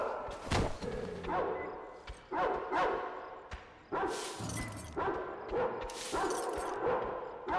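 Dogs bark in the video game Metro Exodus, a series of loud, close, sharp barks and yelps in bursts about a second apart, with thuds mixed in.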